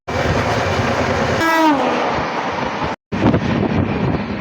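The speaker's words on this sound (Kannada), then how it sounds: "17309 ಈಗ ಬಂದೈತ್ರಿ ಹುಬ್ಳಿ" The 17309 Yesvantpur–Vasco da Gama Express rolls into Hubli station with a continuous close, heavy rumble. A single sharp horn blast sounds partway through, and the wheels clack along after it.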